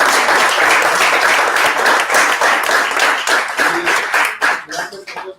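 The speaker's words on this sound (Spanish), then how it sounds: "los invito a que le agradezcamos a Ceci con un aplauso" An audience at a talk on alcohol's neuropsychiatric effects applauds the speaker with loud, dense clapping that thins out and fades toward the end.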